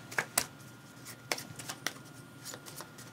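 A deck of cards for the board game Chai being shuffled at a table, a quiet run of crisp riffling snaps and taps spread over a few seconds, close and fairly soft, with no talk.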